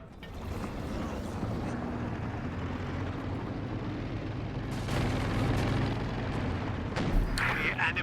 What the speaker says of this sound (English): Is that another INR Pathfinder artillery barrage?